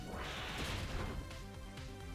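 Hammer Arm attack landing in Pokemon Omega Ruby and Alpha Sapphire, a heavy smashing crash with a whooshing impact, followed by a short trailing rumble, fairly quiet overall and without speech.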